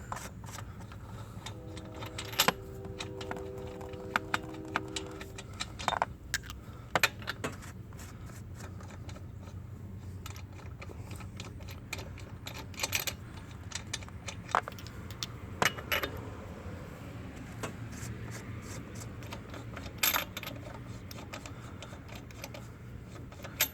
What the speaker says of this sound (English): should be able just to spin these on off of here